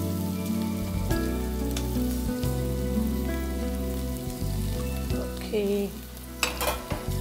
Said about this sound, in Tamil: கடுகு பொரிஞ்சிருச்சு, வெங்காயம் போட்டுக்கலாமா? வெங்காயம், இந்த பச்சை மிளகாய்,